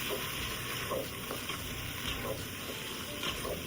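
Chicken pieces stirred with spices in a pan, a continuous moist sizzle with soft rhythmic scraping from the spoon, close and steady throughout.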